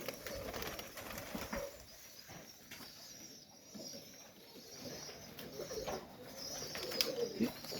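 Serbian Highflyer pigeons coo softly in a breeding loft, low rolling calls over a busy background of shuffling and faint fluttering.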